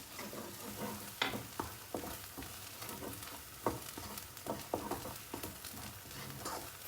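Palm sugar and salt frying in a pan with a steady bubbling sizzle, punctuated by repeated spatula scrapes and taps at an uneven pace, close and fairly quiet, no one speaking.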